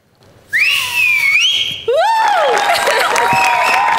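Loud whistles blown on the stage of a Marathi comedy show, a long bright note that bends upward, then a second sliding whistle with some crowd noise beneath it.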